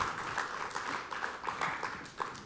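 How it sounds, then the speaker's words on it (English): Audience applause in a lecture hall welcoming a law professor to the podium: a steady patter of many hands clapping at moderate distance, fairly soft and continuous throughout. "Y'all are kind to applaud before you've even heard a single word."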